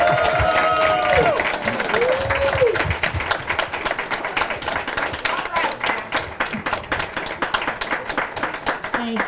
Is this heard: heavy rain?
no